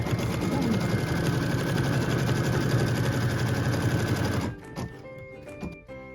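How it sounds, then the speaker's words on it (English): A sewing machine runs continuously for about four and a half seconds, stitching a tack-down line on a quilt block, then stops, leaving a few small clicks and handling noises. "we are stitching the final tack down line for this block"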